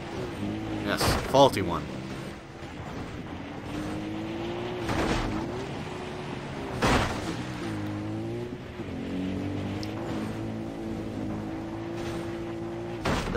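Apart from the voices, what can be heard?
ATV engine in the video game Far Cry 3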